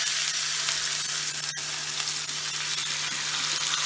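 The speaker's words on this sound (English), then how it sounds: "my pan should be nice and hot now. So I'm going to go ahead and put my salmon in" Salmon sizzles loudly in a hot pan, a dense continuous hiss close by, with one sharp tap partway through and a faint steady hum underneath; no voices.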